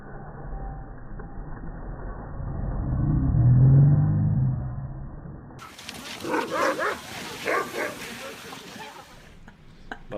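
Huskies out dog sledding on dry ground with no snow, excited barks and yips close by over a rumbling rolling noise, after a stretch of low wind-like rumble, with people talking nearby.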